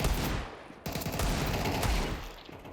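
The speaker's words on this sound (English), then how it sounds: "It was time for the Deagle." Desert Eagle pistol fire in a shooter game: loud, dense gunshots crowd together with a brief break partway through, without talk.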